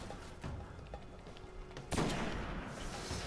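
Rapid gunfire in the video game Destiny, a dense stream of shots heard during play, with a louder burst near the end.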